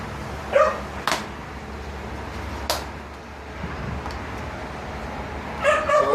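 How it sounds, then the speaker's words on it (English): A few short, sharp yips from a dog stand out over steady low background rumble, with a couple of quick clicks in between; the barks are moderately close. "About the dog noise, guys."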